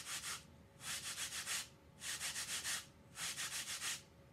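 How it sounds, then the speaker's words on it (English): Kitchen sponges are rubbed together to make a scratchy, rasping sound. It comes in four close bursts, each made of several quick strokes, with short gaps of quiet between them. "It's a cool scratching sound, isn't it?"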